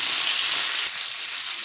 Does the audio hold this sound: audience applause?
no